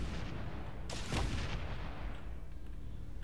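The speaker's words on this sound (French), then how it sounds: "Vous voyez le nombre de roquettes que je tire?" Rockets fire from a vehicle in the game Space Engineers: a booming launch burst near the start rolls into a deep rumble over steady engine-like background noise, close and fairly loud, with no talking.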